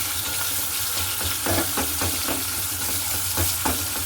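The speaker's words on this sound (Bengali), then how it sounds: "পেঁয়াজটা একটু ভাজা করে নিই" Chopped onions frying in a pan, a loud steady sizzle up close with rhythmic scraping strokes of a spatula stirring them.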